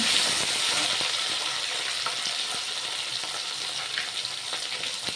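Tomatoes fry in a pan during vegetarian cooking with pointed gourd and chana dal, giving a steady, fairly quiet sizzle with faint occasional clicks of stirring.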